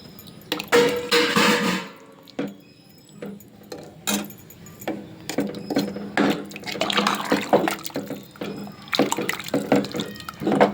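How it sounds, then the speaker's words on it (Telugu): Two glasses of water poured into a pot of spicy mutton curry, uneven splashing and trickling bursts that come and go, close and moderately loud. "ఈ సైజు గ్లాసు 2 గ్లాసులు వాటర్ పోసాను"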